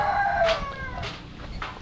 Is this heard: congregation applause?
no